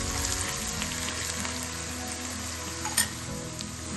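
Asafoetida, cumin and garlic sizzle steadily in hot oil in a pan, a continuous close frying hiss with faint stirring scrapes and one brief clatter near the end, no voices.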